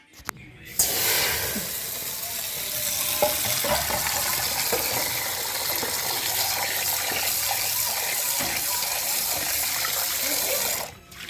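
A steady loud hiss and sizzle of water as a hot brass pot is plunged into cold water, holding strong for several seconds before stopping abruptly.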